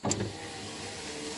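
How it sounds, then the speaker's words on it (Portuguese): The one-touch electric window of a VW Parati runs with a short click followed by a steady motor whir, close up and alone. "Todos os vidros do carro são One Touch, olha aqui."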